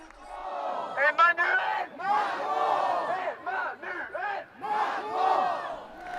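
A crowd at Emmanuel Macron's 2022 presidential campaign rally in Marseille shouts and chants in loud surges, voices merging into rhythmic cheering bursts that rise and fall across several seconds.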